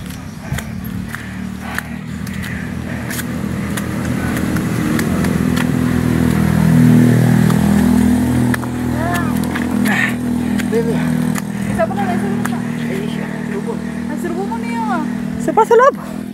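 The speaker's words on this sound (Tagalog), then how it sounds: "Highway na yan sa taas, oh." Motorcycles and cars pass on a highway overhead, their engines swelling and fading in a steady rumble, while people talk nearby in a natural outdoor setting near a cold spring.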